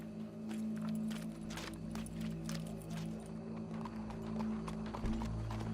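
A horse in the video game Red Dead Redemption 2 clops along in a rapid run of hoofbeats, quiet and set against a steady low game ambience and hum.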